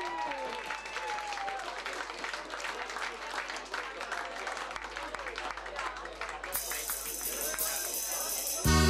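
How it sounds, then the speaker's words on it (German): Crowd applause at an Oktoberfest music show at SV Südwest, a sustained clapping wash under music and voices, with a sharp change near the end as a song begins. "Mit einem donnernden Applaus."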